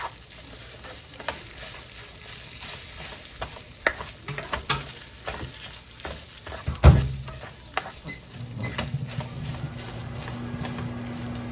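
Sausage frying in a warped, scratched pan gives a steady close sizzle, broken by scraping and stirring clatter and one sharp knock, with the sizzle softening toward the end.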